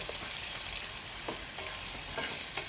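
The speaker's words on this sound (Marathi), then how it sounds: "हे लाल तिखट आणि हे सगळं व्यवस्थित परतून घ्यायचं" Red chili powder being sautéed in hot oil for a prawn pickle, a continuous close sizzle with occasional stirring scrapes, no talk.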